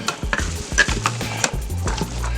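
Carrots, onion and celery being stirred in a pressure cooker, with a spoon scraping and clinking against the metal pot in uneven strokes, close and fairly loud over a steady low hum.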